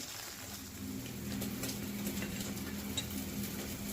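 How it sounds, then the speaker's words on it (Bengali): Fried bata fish is taken out of hot oil, with a steady, moderately loud sizzle and faint stirring scrapes under a low kitchen hum. "তো আমার মাছগুলো ভাজা কমপ্লিট আমি এখন মাছগুলো তুলে নিচ্ছি"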